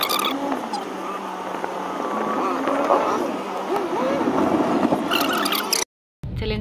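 Street traffic moves through a busy bazaar as a steady, dense wash of engines and road noise, with voices mixed in; it breaks off briefly near the end.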